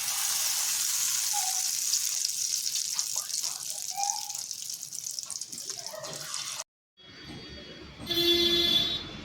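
Potato and egg pakoras deep frying in hot oil, a steady close hiss with faint knocks and clatter, broken by a brief silence before a louder burst of sizzling returns.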